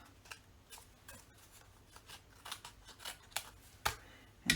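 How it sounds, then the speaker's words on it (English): Scissors snip excess paper off a handmade landscape photo card, a series of quiet, separate cuts and rubbing sounds spread unevenly across the stretch, with a few sharper clicks near the end. "I'm going to snip"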